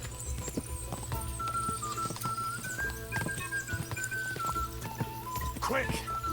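Horse hooves patter steadily and fairly faintly in the medieval video game Kingdom Come Deliverance 2, a regular rhythm under game music and someone talking.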